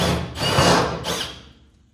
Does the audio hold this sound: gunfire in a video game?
no